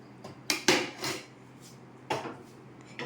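A metal ladle clatters against a cooking pot in a home kitchen, with a few loud, close knocks and scrapes in quick succession, then a pause and one more clang, with no talking.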